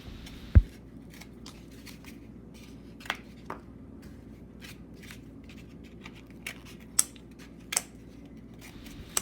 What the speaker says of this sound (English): So I'm cutting down the middle of them and cutting off any extra pieces so they stand straight up.